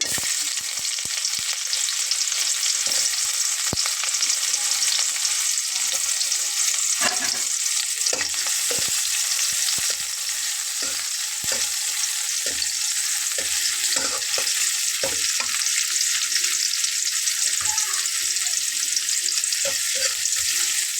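Onion fries in hot oil with cumin seeds while a spatula stirs it around the pan, a continuous close sizzle broken by repeated scraping knocks.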